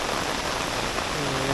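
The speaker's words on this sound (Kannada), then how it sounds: "ಹೆವಿ ಮಳೆ ಸ್ಟಾರ್ಟ್ ಆಗಿಬಿಡ್ತು" Heavy rain pours steadily during a hill trek near Sakleshpura, a dense, even hiss of drops on the ground and foliage filling the whole moment at a constant level, with no voices.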